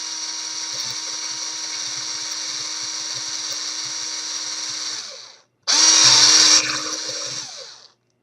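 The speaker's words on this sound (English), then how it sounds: "And I'm just going to drill a little more." A power drill boring into craft sticks whines steadily for several seconds, stops briefly, then revs louder and higher before winding down, close and alone.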